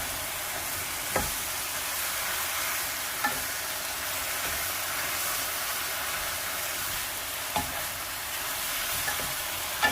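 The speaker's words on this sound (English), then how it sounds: "I'm going to give this a quick mix." Kimchi jjigae with four cloves of minced garlic sizzles in a pot while being stirred, a steady frying hiss broken by a few soft scraping clicks of the utensil.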